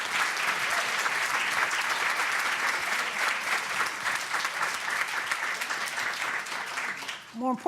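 An audience applauds panelists after a conversation on Black liberatory futures for a city, sustained dense clapping at steady loudness throughout, with a brief voice at the very end.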